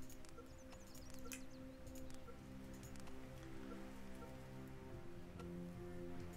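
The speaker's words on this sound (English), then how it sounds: "And I can hear the rains." Steady rain falls in The Universim, a god-game world, as a continuous soft patter of drops on surfaces, joined by a sustained tonal game drone and a few faint chirps, with nobody speaking.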